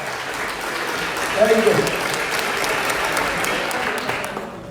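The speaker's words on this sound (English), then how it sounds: "Please give a hand of applause for this beautiful mom." An audience claps together at an event honouring a mother, a steady burst of applause lasting several seconds while a voice speaks briefly over it.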